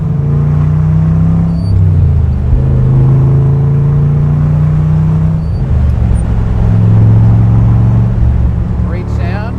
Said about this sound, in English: As if you can hear, you got good side pipes on it.